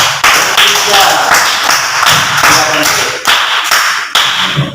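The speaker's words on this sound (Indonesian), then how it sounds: "Aplaus yang meriah untuk kelompok 3." A classroom group of students applauds group 3 with rhythmic, loud, close claps in regular bursts, some hard taps and thumps mixed in, and voices faintly underneath.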